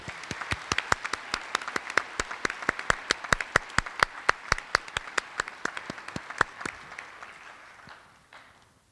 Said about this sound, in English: Please join me in a round of applause for Elizabeth and Jen.